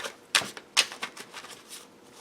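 Tarot cards with a slight sheen are shuffled by hand close up, a quick run of crisp papery snaps and riffles, two sharper clicks early on, then softer patters, quiet and alone.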